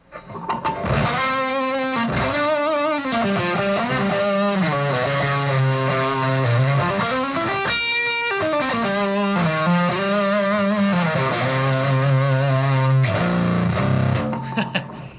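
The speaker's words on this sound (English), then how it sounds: "I barely ever play with this much distortion." Heavily distorted electric guitar playing sustained, saturated chords and riffs, loud and continuous throughout.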